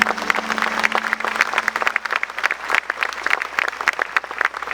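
A church congregation applauds loudly at the close of a prayer, dense clapping with sharp individual claps standing out, and a faint sustained tone fading early on.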